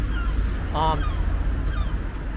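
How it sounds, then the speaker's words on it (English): A single goose-like honk rings out briefly near a lakeside park in Ełk, Poland, heard over steady background rumble with no talking. "The birds tell me we're close to water"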